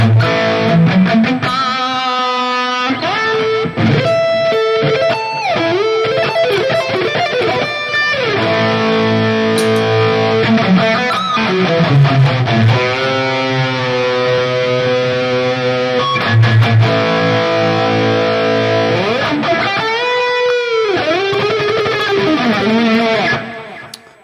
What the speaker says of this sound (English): I prefer the distortion block in the Valeton here with this patch